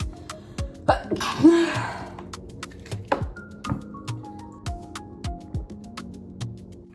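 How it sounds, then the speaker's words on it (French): A single sharp sneeze bursts out close by amid quiet footsteps and soft taps while walking in New York, with a brief breathy intake just before it. "J'ai envie d'éternuer, purée."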